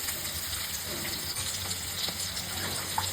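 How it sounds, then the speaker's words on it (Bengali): A little water goes into a spice paste of ground ginger, coriander-cumin, turmeric, chili powder and salt, a continuous close gush of pouring water lasting a few seconds. "একটু জল দিয়ে দিচ্ছি"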